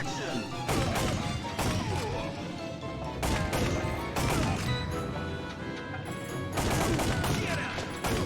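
Gunfire in the arcade shooter Time Crisis comes in loud, sharp bursts and rapid volleys, with impacts and crashes between them, repeating throughout.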